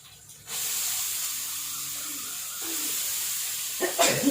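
A steady, loud hiss of escaping steam from a pot steaming chicken starts suddenly and continues throughout, with a few faint clanks toward the end.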